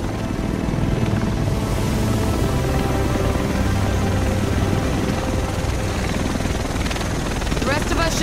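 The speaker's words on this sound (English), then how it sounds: "The rest of us should be in this chopper." A helicopter arrives in the video game The Division, its loud, continuous rotor thrum and engine roar filling the whole stretch at close range with no pause.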